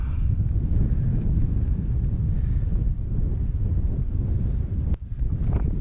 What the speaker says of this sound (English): it's a bit bloody windy up here